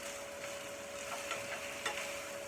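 Stovies ingredients fry in a pan on an Aga cooker, giving a steady close sizzle with a few soft scrapes and stirring knocks and no talking.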